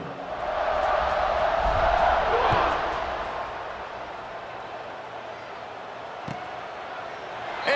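A stadium crowd at a college football video game between Penn State and Oklahoma roars loudly, swells and then fades to a steady murmur, with thuds and a few sharp hits.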